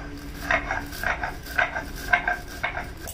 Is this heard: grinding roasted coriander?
yes